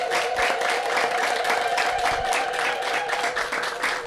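A church congregation claps in a steady, rhythmic beat, loud and close, over a sustained ringing tone that runs through most of the stretch.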